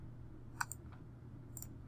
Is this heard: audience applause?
no